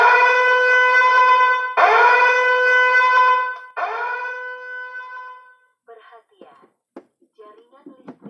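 A three-phase power failure alarm sounds loud, sustained siren-like tones in three long bursts, then a clipped electronic voice announcement follows.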